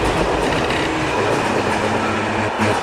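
A train rolls steadily along the rails, a loud, continuous rumble with faint rhythmic clatter of the wheels, close by and with no voices.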